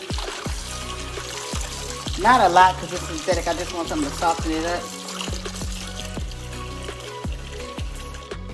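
Hot water is poured into a container holding TRESemme conditioner to soften a synthetic wig. A light pouring trickle runs beneath a voice, with a series of small regular taps.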